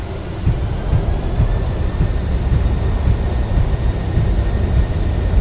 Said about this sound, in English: Reversers are deployed.